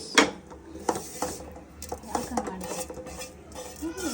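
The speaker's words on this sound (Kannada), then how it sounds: "ನಾನು ಅಕ್ಕಿ ತೊಳೆಯುವ ವಿಧಾನ ಇದು." Rice grains swirled and rinsed by hand in water in a cooking pot while making jeera rice, giving soft sloshing, stirring and light clinking strokes at an irregular pace, moderately close, with faint voices here and there.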